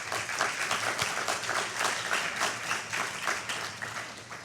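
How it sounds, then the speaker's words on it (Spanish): Audience at a national One Health congress applauding a speaker from a public health ministry as he comes up, a sustained crowd clapping that stays even and then eases slightly toward the end. "Pido un aplauso para él"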